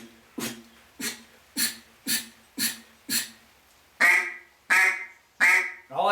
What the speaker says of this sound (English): But the way to get the quack